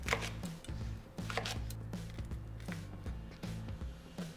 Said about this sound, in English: now I'm just gonna roughly chop everything up before putting it into the blender